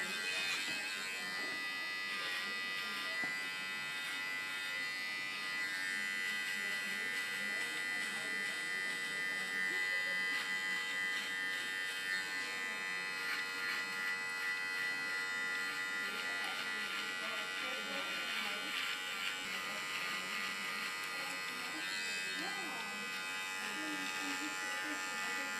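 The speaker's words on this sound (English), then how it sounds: "With the tip of my clipper I create a rounding in it." An electric hair clipper buzzes continuously while trimming short hair, a bright steady hum with slight changes as it moves through the hair, under intermittent speech.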